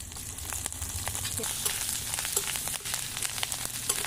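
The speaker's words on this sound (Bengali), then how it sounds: "ভালো করে ভেজে নেব।" Vadi (sun-dried lentil dumplings), green chili and ginger paste frying in a pan for a Bengali spinach ghonto in village cooking, a steady close sizzle with light scraping and stirring clicks throughout.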